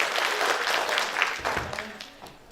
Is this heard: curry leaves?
no